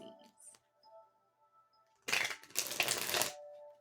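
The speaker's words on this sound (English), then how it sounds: "Shuffle this one more time because we're looking for Pisces." Tarot cards being shuffled up close. A quiet pause with a few faint handling sounds gives way to a loud riffle of cards that lasts just over a second.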